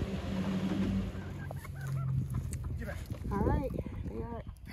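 Young chicks at their new homestead home give a cluster of bright, rising chirps and clucks near the end, fairly close, over a background murmur.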